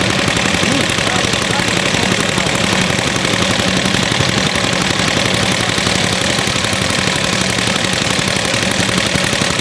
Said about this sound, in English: Another example of a pump there. Smaller machine at Laston, just a bit of a different configuration.